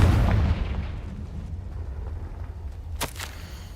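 A Confringo spell blast from the Hogwarts Legacy video game hits as one sharp, explosive crack after a fading rumble, standing alone and fairly loud.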